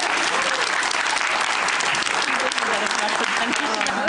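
A late-night television studio audience claps continuously and loudly, a thick wash of many hands that holds steady from start to finish, with a faint murmur of voices beneath it.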